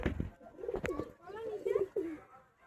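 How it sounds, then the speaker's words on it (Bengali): Kalsira pigeon cooing in soft, repeated low coos, close by, with people talking over and around the calls. "পায়রাটা দেখুন, কালসিরা পায়রা"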